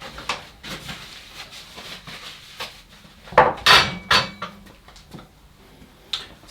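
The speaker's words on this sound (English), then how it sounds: "using a palette knife, we're just going to spread this all the way to the edges of the cake" A palette knife spreads chocolate filling across a cake for a chocolate and cherry gateau, giving soft scraping strokes with a few sharper clinks of metal against a plate or board in the middle.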